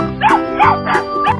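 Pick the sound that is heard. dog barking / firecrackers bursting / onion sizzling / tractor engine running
dog barking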